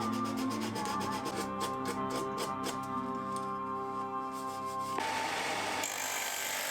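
Wood is sanded on a power sander while a headphone stand is shaped, a steady motor whine with rhythmic rubbing strokes, then the tone drops and changes in the last seconds.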